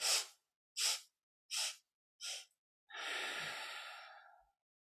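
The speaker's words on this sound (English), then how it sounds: "breathing here with 4 sniffs on the inhale and 1 sniff on the exhale" Kundalini yoga breathing through the nose: four short, sharp sniffs drawing breath in, then one long, rushing exhale, close and clear with no talking.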